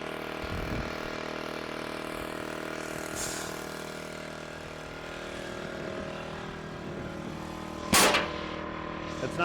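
A K22 Kinetic log splitter works on wood rounds, its engine running steadily throughout with a sharp, loud crack as the wedge bursts a round partway through.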